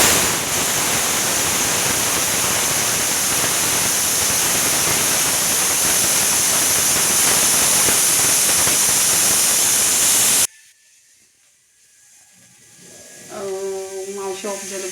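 A pressure cooker cooking dal and rice lets out a loud, continuous hiss of steam for about ten seconds. The hiss then cuts off abruptly and quieter household sounds with a faint tonal hum follow.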